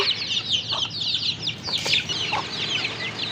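Free-ranging desi hens cluck close by in quick, overlapping bursts of short calls, a small flock chattering continuously without any human voice.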